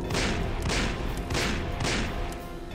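Rapid bursts of gunfire in the Call of Juarez video game, four loud volleys in a steady rhythm layered over continuous dense battle noise, with no talking.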